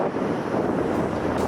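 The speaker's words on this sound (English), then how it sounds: "Very windy." Strong wind at a surf beach buffets the microphone in a loud, steady roar with a low rumble beneath, continuous and without voices.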